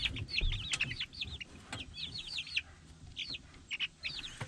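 Many nearly feathered young chickens cheep and cluck in a coop in rapid, overlapping bursts, close by and fairly lively, with faint rustling underneath.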